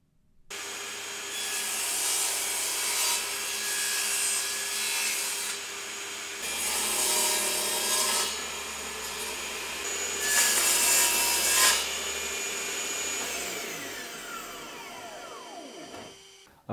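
Pieces of wood for toast tongs being cut on a saw guided by a mitre gauge: several loud, whining cutting passes of a few seconds each, separated by short lulls, then the blade winds down at the end.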